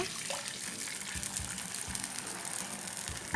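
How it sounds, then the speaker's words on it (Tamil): Water being poured into ground onion chutney in a pan, a steady close gush and splash that continues evenly throughout, without speech over it. "தண்ணி வந்து தேவையான அளவு சேர்த்துக்கோங்க"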